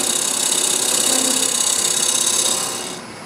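A wood lathe spins while a double-sided skew scraper cuts the workpiece, giving a steady high whirring hum with a fine scraping edge that fades in the last moments.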